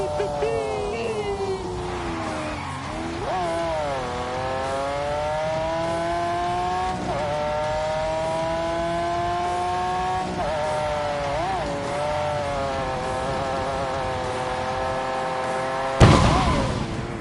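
A Lamborghini engine revs hard and holds high, its pitch climbing and dipping in sustained smooth sweeps with tyre squeal mixed in, then a sudden harsh burst near the end.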